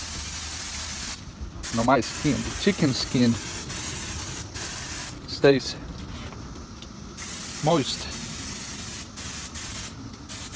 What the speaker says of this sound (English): And now let's do some cooking spray